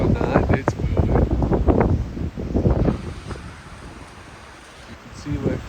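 Gusty wind batters the microphone and roars through big bare trees, loud buffeting bursts for a few seconds that ease into a quieter rush before another gust, with a voice speaking under the wind.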